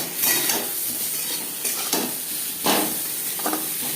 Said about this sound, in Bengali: লবণ হলুদ দিয়ে তিন চার মিনিট আম ভেজে নেওয়ার পর